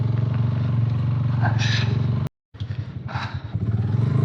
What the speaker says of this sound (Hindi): तेज़ तो चल ही नहीं सकती यहाँ पे बाइक इतने वजन के साथ, क्योंकि रास्ता स्लिपी है,